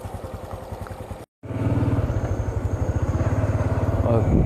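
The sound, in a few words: motorcycle riding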